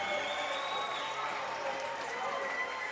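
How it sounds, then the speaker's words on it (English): A basketball crowd cheers and roars at an NBL1 men's game between Ballarat and the BA Centre of Excellence, a dense, steady wall of noise that holds loud from start to finish. "Have a listen to the crowd. They're up and about."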